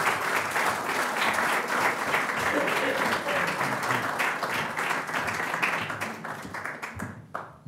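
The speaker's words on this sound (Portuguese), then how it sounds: "Um aplauso também para o nosso conferencista." Audience applause for a conference speaker, a full, sustained roar of many hands clapping at moderate distance, continuing evenly for several seconds before tapering off near the end.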